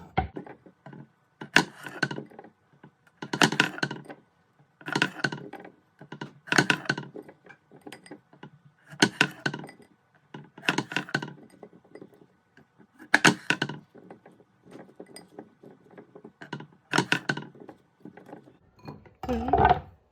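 A knife chops through potatoes on a board, about a dozen sharp, evenly spaced woody cuts with clicks, close and clear with no talking.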